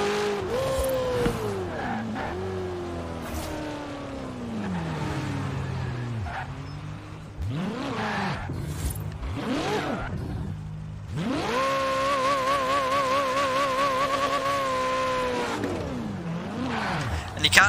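A Ferrari California's engine revs repeatedly, its pitch sweeping up and falling back between blips, then holding a long high steady note before dropping away, loud and close with talk at times over it.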